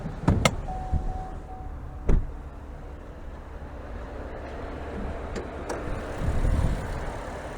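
Hood release and latch clicks on a 2023 GMC Acadia AT4 with a 3.6-liter V6, a few sharp knocks and a thud standing out near and clear over a low, steady outdoor background.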